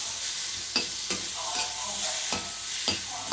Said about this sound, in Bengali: আর একটু ভালো করে নেড়ে চেড়ে এগুলো ভাজা হোক